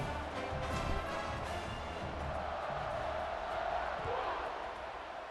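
A large crowd roars continuously in an open college football stadium, a dense, steady wash of cheering and shouting that swells slightly midway and stays loud throughout.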